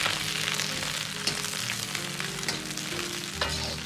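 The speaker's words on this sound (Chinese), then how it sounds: "油热后倒入圆白菜煸炒" Shredded cabbage hitting hot oil in a smoking-hot wok, a dense continuous sizzle with scraping and tossing clatters throughout, close and fairly loud.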